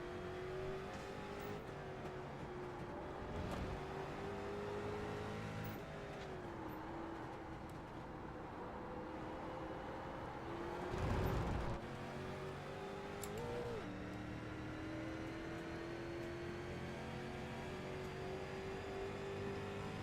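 Race car engines drone steadily in an iRacing league race, with a louder burst of revving near the middle as the 43 car does burnouts, continuous and fairly close.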